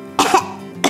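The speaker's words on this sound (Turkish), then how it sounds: "Öksür bakalım." Two short coughs from a child playing doctor with a toy doctor set, a sharp cough near the start and a second one at the end, close and clear with no talk.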